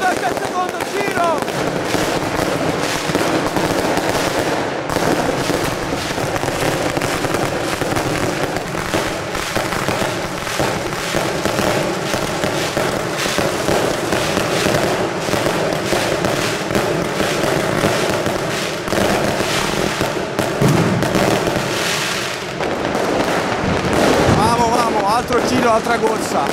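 New Year's fireworks over the Fuorigrotta and Vasto districts of Naples crackle and boom without pause, a dense, loud barrage of bursts and rattling firecrackers close by, with voices faintly mixed into the din.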